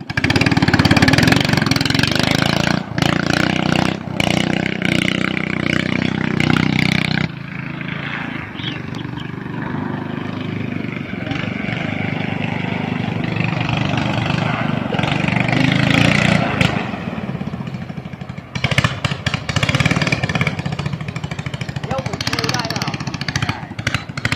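A fiberglass boat with its stock factory 13 hp engine runs steadily and loudly throughout, a continuous motor drone with some speech over it.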